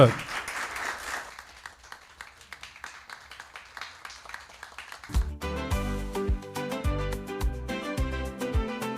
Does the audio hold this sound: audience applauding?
yes